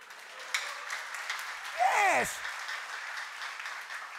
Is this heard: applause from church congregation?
yes